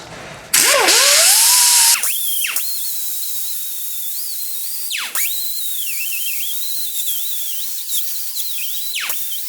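A power tool spins up with a loud, piercing whine to clean the rusty rotor face on a 2013 Honda Pilot's front brake. The tool then keeps grinding at a high pitch, with its speed dipping briefly every few seconds.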